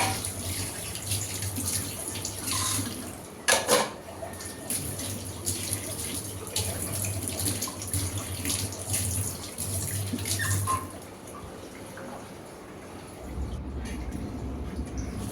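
Kitchen tap water running steadily while plates and bowls are washed, a continuous close splashing stream with occasional clatters of dishes and a brief lull near the end before the flow resumes.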